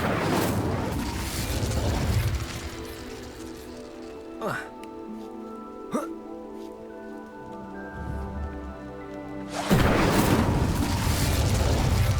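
Incendio fire spell cast during a Merlin trial in Hogwarts Legacy, heard as a pair of sharp magical bursts between stretches of dense crackling, rain-like game ambience, with no talk over it.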